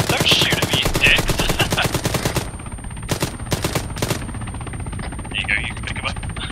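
Automatic gunfire in a zombie shooter game, long rapid bursts of loud, evenly spaced shots close up, broken by a short pause and a few shorter volleys, with players talking over it.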